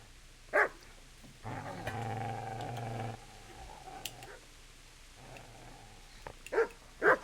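A dog in the medieval video game Kingdom Come: Deliverance gives a sustained, throaty growl between a few sharp, quieter barks, heard moderately close with no talking.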